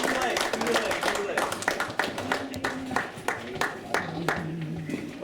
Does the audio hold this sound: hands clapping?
yes